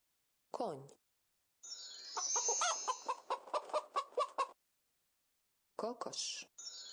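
A hen clucks in a quick run of sharp, rhythmic clucks at close range, with short voice-like calls just before and after.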